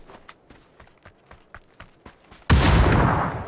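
In PUBG, a grenade is thrown over a hill: a run of light rhythmic footstep-like thuds, then a sudden loud explosion that booms and slowly fades.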